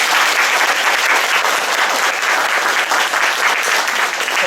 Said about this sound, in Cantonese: 我哋係咪應該俾啲熱嘅掌聲佢？